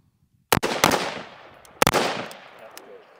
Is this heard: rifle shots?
yes